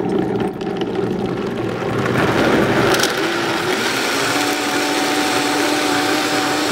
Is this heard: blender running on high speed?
yes